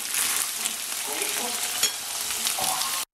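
Chicken marinated in a Caucasian-style sauce fries in a pan, giving a dense, steady sizzle and crackle that continues close up, with no talking, and cuts off abruptly at the end.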